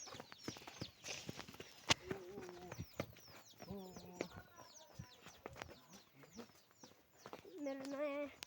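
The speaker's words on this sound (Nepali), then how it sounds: "यहाँनिर कुखुराहरू छ" Chickens cluck and crow close by in a yard, their calls rising in bursts among chirping birds, thumps and a faint voice.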